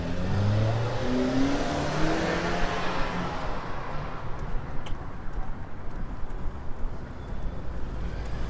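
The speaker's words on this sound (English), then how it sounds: "the New York City bus passes through here, the B14." A New York City B14 bus passes nearby with a loud, rising engine rumble that swells early, then fades into steady street noise.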